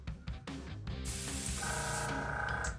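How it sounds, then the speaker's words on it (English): A steady airbrush hiss sprays continuously after a few brief bursts, close and fairly loud, with a faint mechanical hum underneath. "I'm going to spray right here just so you can kind of see how much is actually spraying"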